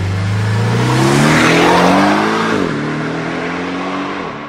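A Porsche flat-four turbo engine, the unit that replaced the flat-six in the Boxster and Cayman, revs up loudly and close by. Its pitch climbs steadily, dips sharply near the end, then settles, with no voices.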